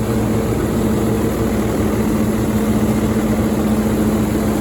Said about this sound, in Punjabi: ਤੇ ਬੜਾ ਇਹ ਵਧੀਆ ਚਾਲ ਟਰੈਕਟਰ ਦੀ